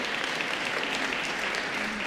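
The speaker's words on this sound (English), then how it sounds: "let's give them a round of applause for having done all this work" A dense, steady round of applause from a large audience at a national convention for a South African national dialogue, a continuous wash of many clapping hands at moderate level throughout.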